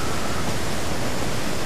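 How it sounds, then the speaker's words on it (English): A waterfall in the video game Devil May Cry 4 produces a dense, loud, unbroken rush of falling water, steady and close with no voices. "Oh shit, a waterfall."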